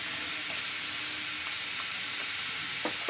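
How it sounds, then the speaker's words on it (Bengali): Sliced onion frying in hot mustard oil in a pan: a steady, close sizzle that holds constant, with a few faint clinks of stirring. "পেঁয়াজটা ভালো করে ভাজা ভাজা করে নেবো।"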